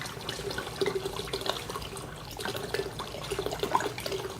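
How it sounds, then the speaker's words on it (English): Plain tap water is poured into a container, steady splashing and gurgling liquid with small bubbly spikes, close up and alone with no talking. "Just plain old basic tap water. We're going to pour this in here till we get to 4 quarts."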